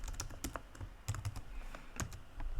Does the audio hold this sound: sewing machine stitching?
no